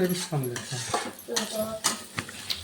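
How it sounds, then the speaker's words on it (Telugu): Egg and broad bean fry being stirred in a pan, with a utensil scraping and clinking against the metal in irregular strokes, close and fairly loud, with a light sizzle underneath. "గుడ్డంతా అడుగంటకుండా బాగా కలియబెట్టాలి"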